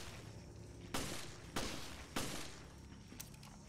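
Gunfire in Resident Evil Revelations, three loud evenly spaced shots followed by a fainter fourth over a low, quiet ambient background.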